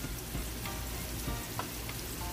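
Squash and corn frying in butter with garlic, ground chile and parsley, a soft steady sizzle with light scraping stir noises throughout, close and fairly quiet, no talking.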